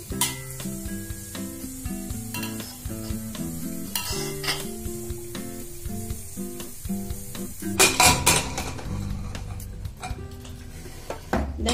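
Cumin and asafoetida sizzle in hot oil for a traditional Mithila mung dal chutney, with a steady hiss, scraping stirs and pan clinks, and a louder crackling surge near the end; a brief spoken phrase occurs.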